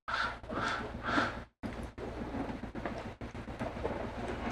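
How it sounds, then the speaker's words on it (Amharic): Steady rain pours down outdoors, a dense continuous hiss that briefly drops out twice before resuming at the same level, with no voices over it. "ዝናቡ እንደቀጠለ ነው"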